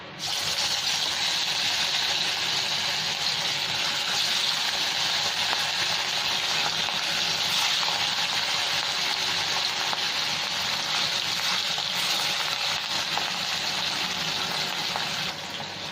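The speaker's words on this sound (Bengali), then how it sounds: "এবার আমি মাছগুলো ভেজে নিচ্ছি" Rui fish fries in hot oil with a loud, steady, dense sizzle that runs unbroken the whole time, close up and with no talking.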